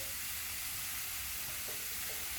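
Vegetables frying in a skillet for a vegan cashew tofu dinner give off a steady, soft broadband sizzle that holds evenly through the clip with no voices.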